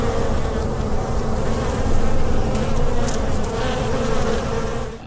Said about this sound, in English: Springtime has arrived, and as you can tell, the bees have too.